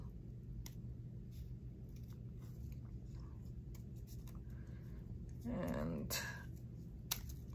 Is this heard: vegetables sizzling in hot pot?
no